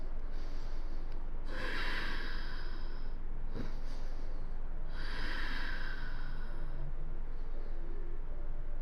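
Slow, deep breaths during a yoga side bend, two long airy inhale-exhale cycles near the microphone with a soft pause between, no talking.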